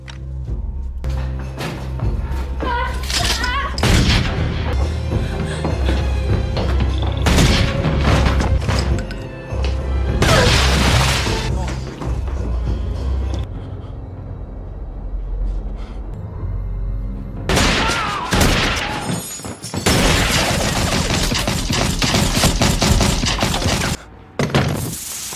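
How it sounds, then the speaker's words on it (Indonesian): Movie gunfire and crashing impacts as an armed gang shoots a family inside an apartment: loud, dense bursts of bangs, thuds and smashing, layered over a soundtrack and continuing almost without pause. "Norman dan anak buahnya datang bersenjata lengkap dan tanpa belas kasihan mereka menembak seluruh anggota keluarga Matilda"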